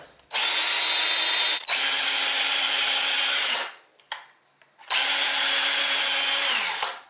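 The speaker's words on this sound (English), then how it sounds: "I'll put this drill on high." A power drill runs at high speed to break in a C-Beam actuator kit, turning it back and forth, with two long loud steady whirring bursts split by a brief stop and a short blip.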